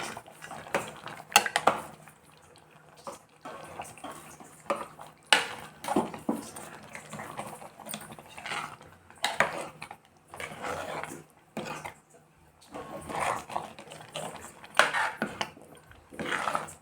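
A spoon scrapes and clinks against a pan while fried ingredients are stirred into sweet pongal, giving irregular, moderately close knocks and scrapes over about seventeen seconds with quieter gaps between strokes.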